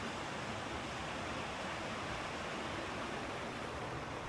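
A river stream flows through an Olympic Peninsula forest, a steady broad rushing of water heard up close with no breaks or voices.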